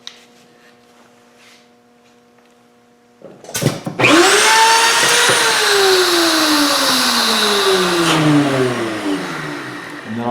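A Hoffmann MU3-PD woodworking routing machine starts up loud and close after a quiet stretch, its motor whining up to a steady high-pitched roar that then holds and slowly eases.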